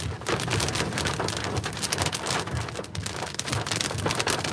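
Heavy, blinding rain pounds down steadily during a tornado storm in southwest Oklahoma, a dense, continuous roar of drops striking surfaces up close with no talking.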